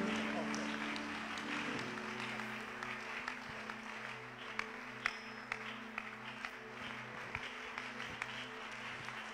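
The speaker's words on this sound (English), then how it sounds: "If you are clapping, clap." Church conference audience clapping to welcome a bishop, a steady wash of applause with scattered sharper claps and a low musical drone underneath, moderately distant.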